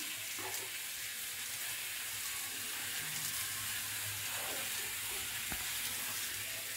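Spices frying in a pan in a home kitchen, a steady close sizzle with occasional soft scrapes of stirring, no voices.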